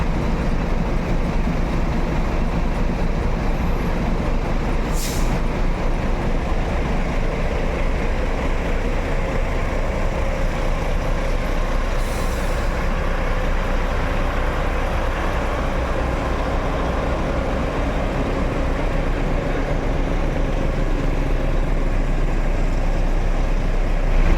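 A Jetbus 5 coach pulling away with a steady, loud engine drone and broadband road rumble, continuous and close throughout, with a couple of brief high hisses.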